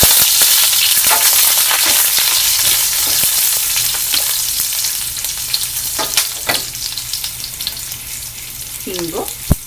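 Mustard seeds, cumin, onion, garlic and curry leaves fry in hot oil for a ridge gourd bassaru, giving a steady, close sizzle. Sharp crackles and spatters break through now and then, and a spoon scrapes the pan.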